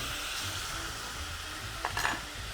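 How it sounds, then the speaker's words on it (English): Fresh garlic stirred into a hot pan of sizzling oil, a steady close frying hiss with a brief scrape of the utensil near the end, no voices. "Next comes the garlic. Huge, fresh helping of garlic. Stir it in a little bit just so that everything can start to mingle"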